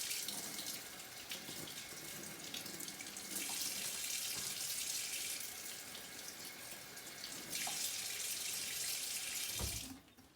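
Warm tap water runs steadily into a kitchen sink over sheets of matzah with a close, continuous splashing hiss that shifts slightly in tone, then cuts off sharply near the end.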